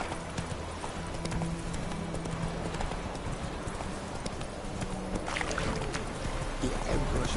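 Roach the horse galloping in The Witcher 3, a continuous rhythmic clip-clop of hooves with some rushing background noise and brief speech.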